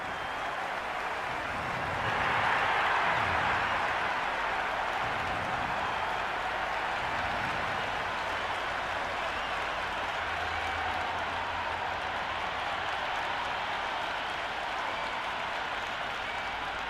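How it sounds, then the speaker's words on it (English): A cricket stadium crowd applauds and cheers before an IPL match, a broad, steady wash of clapping that swells early and then holds at a loud, constant level. "already the crowd is up and about"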